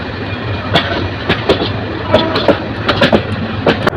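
Kishorganj Express pulls out of Kamalapur railway station in Dhaka, a close, continuous rolling rumble broken by sharp, irregular clacks of wheels over rail joints.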